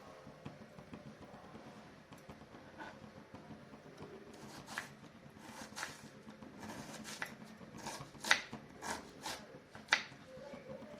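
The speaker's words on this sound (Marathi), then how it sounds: "भाज्या सगळ्या चिरून घेऊयात या प्रकारे कांदा चिरून घ्यायचा" Onion chopped with a knife on a board: soft scattered taps that grow into a quicker run of crisp cuts, a few sharper strikes near the end, close but quiet, with no talk.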